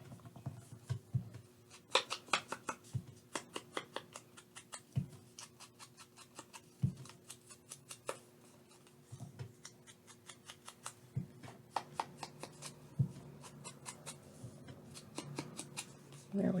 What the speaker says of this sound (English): I like to tear the edges. I really like that look, so I'm going to go ahead and tear these off.